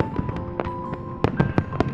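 Fireworks in the video game Love and Deepspace go off in a quick run of sharp bangs and crackles, several bursts close together over a soft background.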